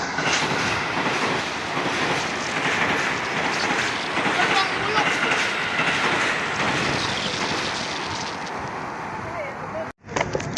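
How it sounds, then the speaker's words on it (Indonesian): A KRL 6000-series commuter train rolls past close to a station, a steady loud rumble with clattering wheels and some squeal throughout, ending in a brief cutoff. "K6 berpapasan dengan KRL time 6000 di tepat jalan stasiun tren."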